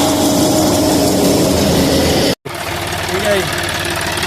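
A nearly new John Deere 5210 4x4 tractor idles with a steady mechanical rumble, briefly cutting out before resuming with some faint knocking.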